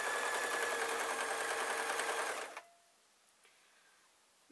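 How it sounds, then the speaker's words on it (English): A sewing machine runs steadily while stitching a seam on a string bag, a fast close whir that cuts off partway through and leaves near silence with a couple of faint clicks. "So I'm going to sew over that and a line of stitches just to the top."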